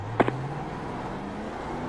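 An iRacing NASCAR 1987 Legends race car at Pocono drones out of its pit box, a steady engine tone climbing gradually in pitch as it accelerates, with short clicks at the start and a burst at the end.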